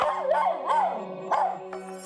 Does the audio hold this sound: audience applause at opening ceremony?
no